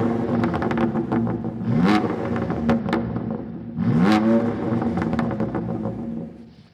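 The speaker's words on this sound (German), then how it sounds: "was mir an diesem Auspuff so wahnsinnig gut gefällt, ist, dass der so schön bassig klingt" A BMW M2 Competition's exhaust revs hard twice, deep and bassy note rising and falling in quick bursts, close by, with no talking.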